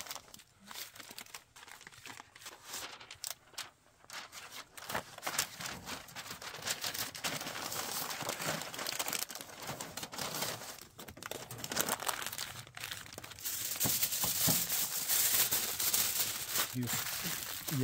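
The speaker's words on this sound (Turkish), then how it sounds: "Üçüncü sırada alüminyum folyo salacağım." Aluminium foil is crinkled and laid over lamb at a snowy camp. Close, busy crackling and rustling grows louder toward the end, with some faint talk underneath.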